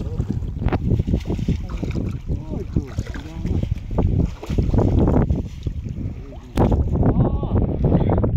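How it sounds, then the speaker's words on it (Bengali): Strong wind on a river where fishermen are working nets and fish traps in spring, a loud steady roar of wind buffeting the microphone with water and boat noise throughout, and a voice briefly under it. "প্রচুর বাতাস"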